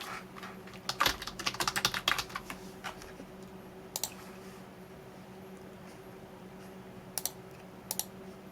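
Bursts of keyboard typing while a website layout is being built, busy clusters of keystrokes near the start and then scattered single taps and short runs over a steady low hum, with no speech.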